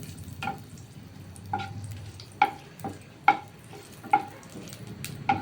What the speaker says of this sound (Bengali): এই লঙ্কা ভেজে আমি তুলে রাখবো